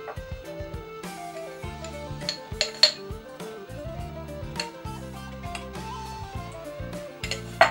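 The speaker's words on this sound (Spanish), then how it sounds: "Aquí tenemos nuestro tarro de tomate natural y lo metemos en la olla." A glass jar of natural tomato is set into a cooking pot, giving a few bright clinks and knocks of glass against metal over steady background music.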